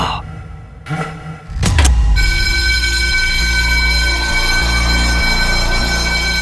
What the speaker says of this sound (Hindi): अब ये फायर अलार्म किसने बजाया?